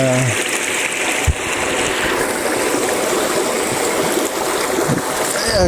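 River water rushing over rocks in a hill stream, a loud, steady broadband rush close by that fills the clip, with a brief knock partway through.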